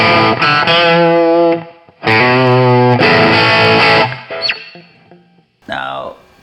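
An electric guitar played through a British-style 50W Mojotone amp with master volume and preamp set halfway gives loud, mildly overdriven sustained chords in two long strums, then a short lick and a pick slide as it fades.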